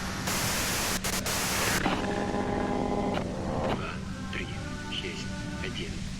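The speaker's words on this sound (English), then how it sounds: "If you've got something really important to say, you can do it through the white noise." Loud broadband static hiss from a device in the video game Disco Elysium fills the first couple of seconds, then continues more softly beneath tonal hum and a speaking voice.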